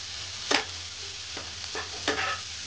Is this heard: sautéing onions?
yes